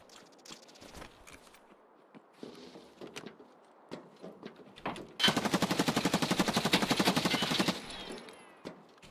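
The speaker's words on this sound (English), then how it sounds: "Shooting inside." Indoor gunfire in the shooter video game Escape from Tarkov: scattered footsteps and a few single shots, then a loud sustained burst of rapid automatic fire lasting a couple of seconds, close and echoing.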